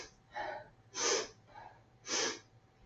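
Sharp nasal sniffing inhales taken during a standing pilates twist on a mat, four bursts in under three seconds with two louder, longer sniffs alternating with softer ones, close and clear with no talking.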